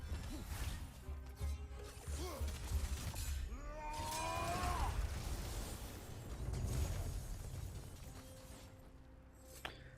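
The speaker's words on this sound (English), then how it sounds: "Freeze and then shatter 6 enemies." Frozen enemies shatter in God of War Valhalla, with crisp icy breaking and crashing bursts layered over whooshing combat effects and game sound, with no talk.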